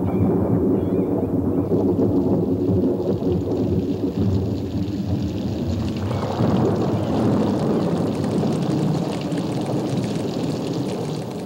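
Thunderstorm over a chimpanzee forest: heavy, continuous rain roar with low rumbling thunder swelling midway, loud and enveloping throughout.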